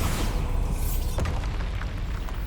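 A Confringo spell explosion in Hogwarts Legacy bursts with a deep, rumbling boom that rolls on and fades over a couple of seconds, close and heavy, with a faint whooshing tail.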